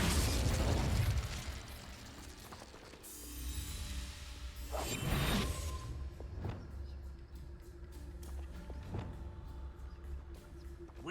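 An Incendio fire spell is cast in the video game Hogwarts Legacy, with whooshing fiery bursts and booming explosive pops. Loud roaring blasts come early, then quieter crackling hits and sharp pops trail off over ambient game sound.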